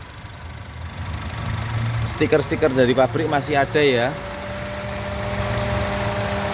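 A 2021 Honda Brio E manual sits idling with a steady, low engine hum throughout while someone talks close by over it.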